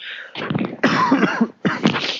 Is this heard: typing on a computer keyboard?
no